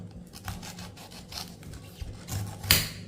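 A knife cuts into a whole pineapple for a weight-loss drink, making rough rasping, scraping strokes through the tough skin, close and moderately quiet, with a sharper crunch near the end.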